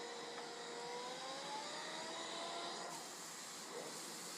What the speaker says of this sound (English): Let's try the turbo. I'm going to leave this on a lower suction.